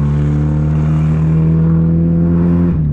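A 1999 Honda Civic with a near straight-pipe exhaust, lacking catalytic converter, resonator and muffler, drones loud and close at sustained revs for nearly three seconds, then dips briefly near the end; no voices.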